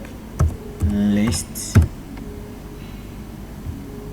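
A few quick keystrokes on a computer keyboard, sparse close clicks in short bursts alongside a speaking voice.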